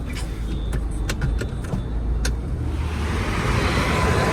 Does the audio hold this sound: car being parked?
yes